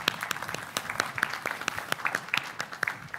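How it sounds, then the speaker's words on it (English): Audience applause at a talk on open source experiences, steady clapping from a crowd of many hands lasting throughout, moderately loud and fairly close, with no speech over it. "she does deserve a round of applause"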